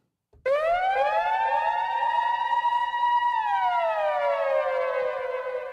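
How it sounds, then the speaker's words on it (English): A loud siren sound effect rises into a steady wailing tone, holds, then sweeps downward and fades slightly near the end, alone with no talking. "Siren."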